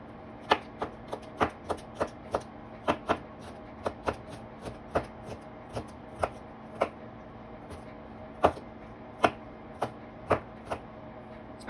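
Food is chopped on a board in a home kitchen, with sharp knife strikes coming in an uneven rhythm, around twenty in a row, close by over a low background hum.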